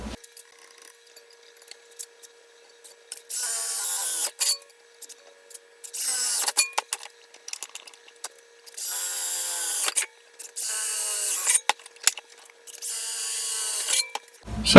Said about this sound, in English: I'm just going to go ahead and get this drilled.